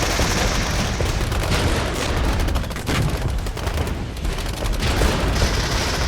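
Artillery strike explosions in the Regiments video game, a dense, continuous barrage of loud booms and crackling blasts rolling on for several seconds with no pause.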